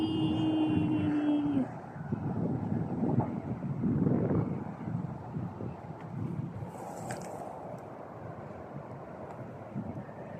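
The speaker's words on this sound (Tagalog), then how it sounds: "Ayan, may aeroplano sa taas." An airplane drones overhead near Tsing Ma Bridge, a broad rumble that swells and fades, with gusts of wind buffeting the microphone and a faint tone early on.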